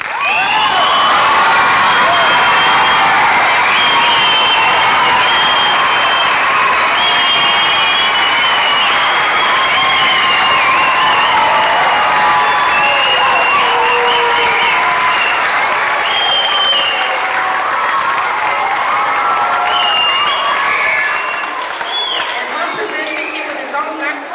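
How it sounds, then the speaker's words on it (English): At the curtain call of a 2004 Nutcracker performance, a large audience claps and cheers loudly and continuously, with whoops and children's shouts rising over sustained applause that runs throughout before tapering at the end. "So please, a round of applause for Mr. Milner."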